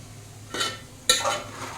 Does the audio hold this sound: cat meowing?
no